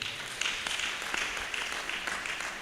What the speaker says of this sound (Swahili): Apigiwe makofi.